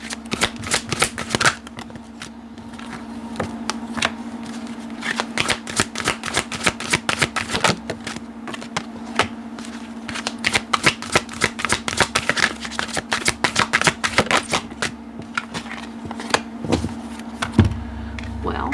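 Tarot cards are shuffled for a reading in a long run of quick, crisp riffling and slapping bursts, close and fairly loud, over a steady low hum with no talking.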